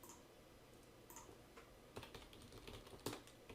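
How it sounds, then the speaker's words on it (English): Quiet typing on a computer keyboard, a fast irregular run of soft clicks with a few louder keystrokes, close and alone. "I'm going to type in"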